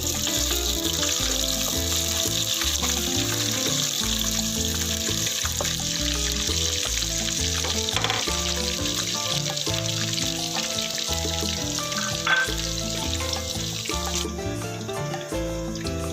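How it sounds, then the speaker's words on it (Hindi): Ring-cut onions frying in a pan, a continuous bubbling sizzle that runs steadily throughout, with some clatter and watery pouring-like texture mixed in, and no talking. "ऐसे रिंग में कटी हुई प्याज डाल रही हूँ और इसको फ्राई करूँगी।"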